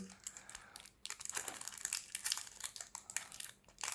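Foil wrapper from a FIFA World Cup 2018 sticker packet crinkles and crumples close up in irregular bursts, loud and crackly throughout.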